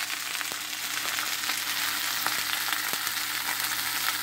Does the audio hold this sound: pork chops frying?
yes